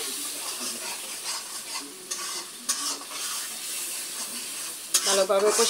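Mashed boiled jackfruit seeds being stir-fried in soybean oil, giving a continuous sizzle broken by repeated scraping strokes of a spoon against the pan and a louder clatter near the end.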